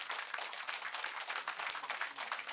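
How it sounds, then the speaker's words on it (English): A conference audience at an Indus Valley Civilization national conference gives a round of applause to welcome the chief guest, a dense, even wash of many hands clapping throughout, steady and moderately loud. "Please make a round of applause and I ask you to welcome him."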